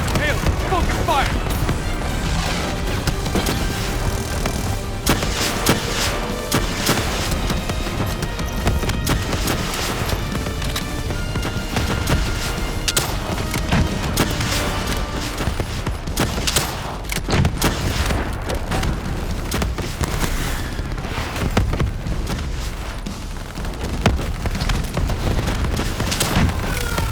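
Sustained automatic gunfire from a Call of Duty: Black Ops III boss fight against Sarah Hall, with dense rapid bursts, sharp cracks and booms throughout, loud and close, mixed with game sound effects.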